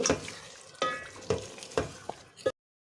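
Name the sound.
chicken meat frying in masala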